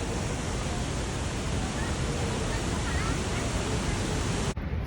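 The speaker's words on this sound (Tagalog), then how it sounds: "Nandito na kami behind the waterfalls." Niagara Falls roars up close from behind the falling water, a loud, dense, unbroken rush of noise that fills the whole clip and cuts off abruptly near the end.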